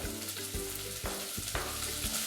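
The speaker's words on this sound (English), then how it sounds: "Let's add the celery, carrot and the pepper in," Celery, carrot and pepper sizzle steadily in hot oil in a saucepan, a dense continuous frying hiss with a few stirring scrapes, close and alone with no talk.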